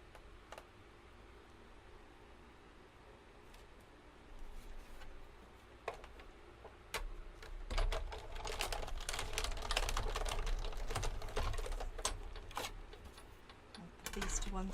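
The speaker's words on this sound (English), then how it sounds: "We'll take our die cutting machine" A die cutting machine cranks a card through, giving a dense run of clicks and ticks that grows louder partway through and keeps going to the end.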